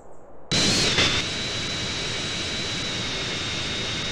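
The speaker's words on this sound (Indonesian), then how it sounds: "terdapat pesawat warna biru putih seperti Avatar." A large blue-white airplane's jet engine in GTA San Andreas starts with a sudden roar, then settles into a loud, steady whine and rumble with no speech.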